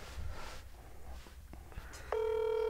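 A phone call is dialed: faint, scattered handling taps are followed by a steady electronic tone that starts partway through and holds to the end, under a quiet room with no talking.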